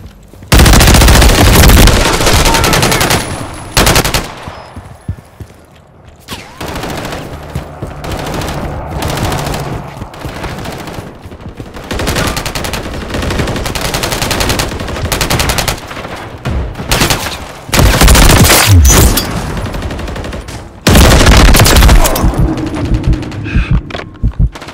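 BP50 assault rifle fire in Modern Warfare 3 team deathmatch, loud rapid bursts of automatic gunfire that stop and restart repeatedly, with quieter gaps and other battle noise between the volleys.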